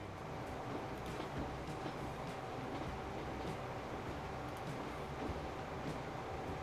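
A train rolls along steadily in the Transport Fever 2 video game, a continuous rumbling run with a broad wash of rail noise and faint rhythmic clatter, heard from on board and holding at an even level throughout.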